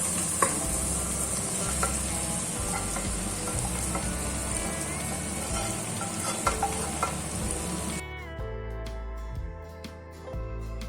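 Marinated chicken fries with cooked-down tomatoes in a pressure cooker for chicken pulao, a dense close sizzle with stirring scrapes and clinks that drops to a quieter, thinner crackle near the end, no voices.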